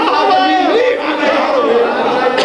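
A crowd at a religious majlis gathering shouts back in loud unison in response to a slogan for Qalandar Pak, a sustained, dense roar of many raised voices throughout.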